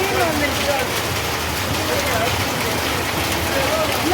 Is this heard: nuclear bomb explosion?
no